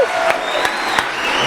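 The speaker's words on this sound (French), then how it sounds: "On va encore l'applaudir s'il vous plaît." A studio audience applauds a guest on a live broadcast, a loud mass of clapping with a few sharp accents and a tonal line running through it, without clear speech.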